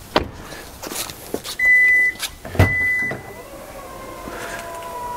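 A 2021 Kia EV6 power tailgate opens: soft electric motor whirring with short beeps and a latch clunk, close by and fairly quiet.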